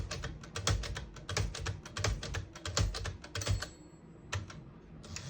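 Tab and clear buttons on a 1956 Smith-Corona Silent-Super portable typewriter are pressed over and over, giving a close, crisp run of mechanical clacks and snaps with no talking.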